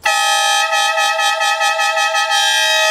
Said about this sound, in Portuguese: agora com uma buzina potente também